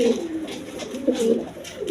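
A big pigeon, a male of a large breed, gives a run of deep, throaty coos close by, the calls rising and falling in quick repeated phrases with no talk over them.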